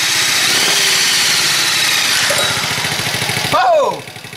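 Chinese ATV engine running steadily at idle after starting on choke, a loud, close, even putter with rhythmic pulses throughout, briefly revved near the end before settling down.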